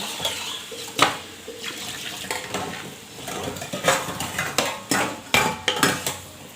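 Water splashes into a pot of curry while a spoon stirs and scrapes against the metal, giving close, irregular clanks and sloshes in repeated bursts.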